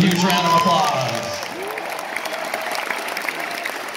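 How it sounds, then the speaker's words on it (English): A concert crowd applauds and cheers for the road crew, the clapping swelling under a speaker's amplified voice at first, then continuing on its own as a broad, steady wash. "So please give every member of our crew a huge round of applause."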